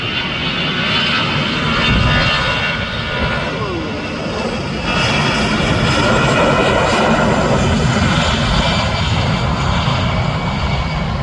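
A fixed-wing airliner takes off at Louisville SDF airport, its engines roaring loud and steady throughout, a broad sustained rumble and whine that swells slightly toward the end.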